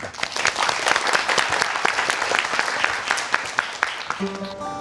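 A studio audience on a Korean quiz show applauds to welcome a student presenter, loud, busy clapping that fades near the end as a voice begins.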